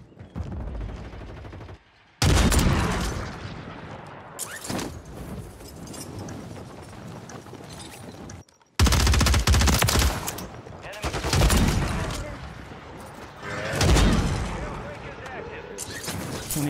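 Gunfire in the Warzone battle royale game, loud shots and bursts of automatic fire in clusters separated by short gaps, with talk over the action.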